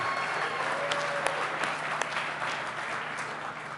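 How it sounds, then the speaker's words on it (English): Audience at a Milwaukee, Wisconsin event applauding for Gwen Moore, a steady wash of distant clapping with a few sharper claps standing out, fairly soft and continuous. "How about another round of applause for that Gwen Moore"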